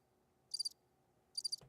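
Crickets chirping as an inserted sound effect, two short trilled bursts about a second apart over a faint low hum, ending with a brief click.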